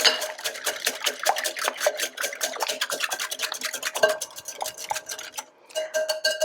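A whisk beats peanut butter and water together in a bowl for homemade dog treats, giving a continuous fast run of close metallic clinks and scrapes with no talking.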